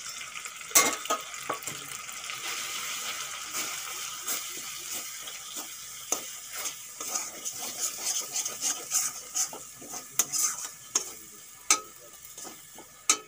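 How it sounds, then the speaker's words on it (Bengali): Ground coriander, cumin, chili, Kashmiri chili and turmeric frying with tomato and ginger for a vegetarian bottle-gourd curry, a soft steady sizzle broken by repeated scraping stir strokes that grow sharper and more frequent toward the end. "টমেটো আর আদা ভালো করে ভেজে নিয়েছি, এখন দিয়ে দেব গুঁড়ো মশলা"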